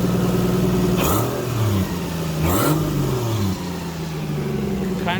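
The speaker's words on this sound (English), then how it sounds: "I'm gonna go ahead and do a slight little rev." A 1JZ single-turbo engine swapped into a Mazda Miata, not yet tuned, blips through two short, moderate revs from a lumpy idle, each rise and fall clearly traced, with a faint turbo spool riding on top.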